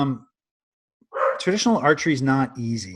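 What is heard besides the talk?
dog barking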